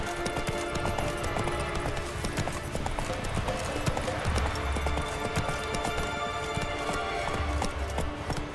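Roach, the horse in The Witcher 3: Wild Hunt, gallops in a loud, fast, unbroken run of hoofbeats, with game music and ambience beneath and a short spoken word partway through.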